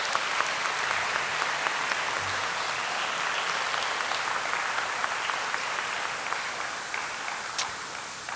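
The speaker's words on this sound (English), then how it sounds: "Let's show them our appreciation with another round of applause." An audience applauding at a high school senior recognition ceremony, dense sustained clapping from a large crowd that holds steady throughout without talk.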